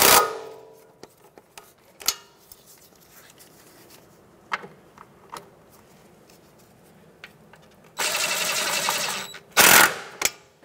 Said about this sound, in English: Now we can tighten up the mounting bolts, 13 millimeter socket, and just bottom them out.